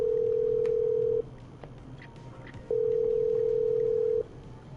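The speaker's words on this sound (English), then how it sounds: "I'm dialing. One moment." Telephone dialing tones in the video game Killer Frequency: two long, steady electronic tones, each about a second and a half, separated by a short pause, loud and clear over faint background hiss.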